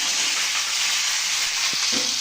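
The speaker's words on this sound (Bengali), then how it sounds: "এখন আমি একটুখানি ভাজবো" Cubed potato and pumpkin sizzling in hot oil in a pan for a Bengali vegetarian dish, a loud continuous frying hiss with a couple of brief stirring knocks near the end.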